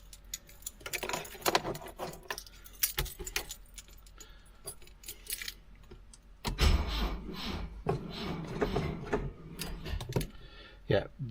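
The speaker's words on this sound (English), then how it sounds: "Where's my keys now?" Metal keys jangle and rattle in fits and bursts near a 1976 BMW 2002 with a weak battery, mixed with clicks and handling noises; a louder cluster of clinking comes in the second half.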